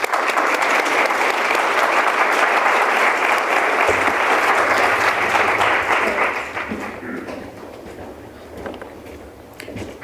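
Audience applause welcoming Dr. Fred Luskin at a talk on the psychology of forgiveness, a loud sustained crowd clapping for about six seconds that then thins and fades toward the end.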